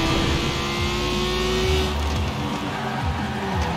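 An Italdesign Zerouno supercar in Forza Horizon 4 revs loudly during a race, the engine note climbing hard then dropping off as it shifts and eases, with no speech over it.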